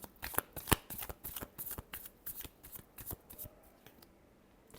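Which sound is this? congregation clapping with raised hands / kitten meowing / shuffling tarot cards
shuffling tarot cards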